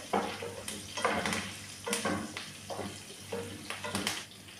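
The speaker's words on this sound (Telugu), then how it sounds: "తర్వాత కరివేపాకు వేసుకొని ఇట్లా బాగా మిక్స్ చేసుకోండి." Curry leaves fry in a pan for carrot fry while being stirred. Repeated scraping strokes come in uneven bursts over a soft, continuous sizzle, with a low hum running beneath.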